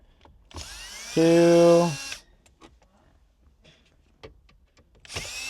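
A power screwdriver whirs loudly for about a second while screws are removed from the center console of an Infiniti Q50, with a person talking before and after and faint clicks of handling around it.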